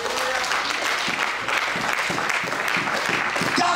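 Church congregation applauding to acclaim God during a French-language sermon, steady dense clapping from a large crowd with no break.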